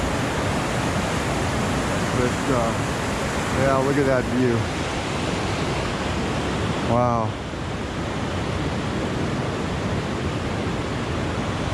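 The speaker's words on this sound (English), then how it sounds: "creek crossing. These aren't rivers. They don't even sound like rivers." Loud, steady rushing water from Rock Creek, swollen by heavy rain, fills the scene like a fast creek, with a person speaking briefly over the continuous roar.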